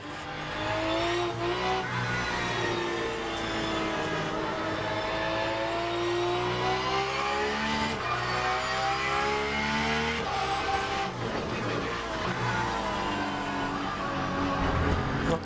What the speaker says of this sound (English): I'm keeping up with a hypercar in the wet here.